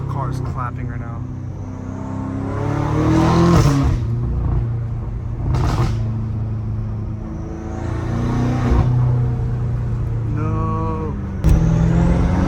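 A catless BMW M5 Competition rumbles and revs on the street, its exhaust letting out sharp forced pops and cracks between surging engine notes, with someone speaking briefly near the start.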